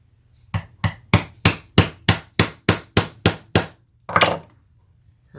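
Wide metal rivets are hammered into a fabric bucket bag between its stitching, heard as eleven sharp, evenly spaced strikes close by, followed by a pause and one heavier, duller blow.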